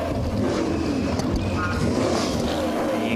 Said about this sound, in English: would you listen to the noise of those V8 motors